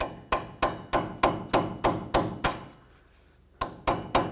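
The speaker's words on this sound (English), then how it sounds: "looks like I'll have to hammer it" A chisel is hammered to free a seized part on the front lower control arm of a 2004–2008 Ford F-150, about a dozen sharp ringing metal strikes in an even rhythm, with a short pause before the last few blows.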